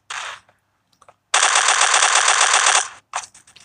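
Magnum fire in the online shooter FinalShot: short, loud bursts of rapid automatic shots, a brief one, a long sustained volley, then a few clipped shots, close and dry with no voices.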